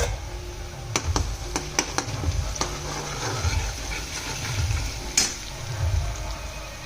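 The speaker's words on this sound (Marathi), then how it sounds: "आता आपण याच्यात लसूण टाकूया।" Garlic going into onions frying in a pan for a Maharashtrian sandge curry, with a steady low sizzle and a few sharp clicks and stirring scrapes of a utensil against the pan, no talk.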